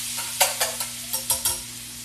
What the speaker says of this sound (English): So we've got the butter. And it getting a little bit brown is going to be okay